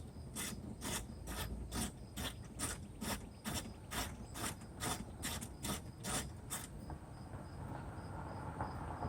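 A ratchet clicks in quick, even bursts while loosening the 10mm bolts under the front bumper cover of a 2005 Mazda 6i Sport. The close, bright clicking runs for several seconds and then stops.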